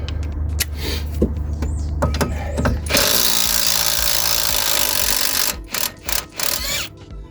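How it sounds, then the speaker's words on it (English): An impact gun works on a nut on a Citroen C1 wheel. Short mechanical bursts come first, then a loud, sustained harsh rattling for a few seconds, then a few more brief bursts near the microphone. "Let's see if the impact gun does it now."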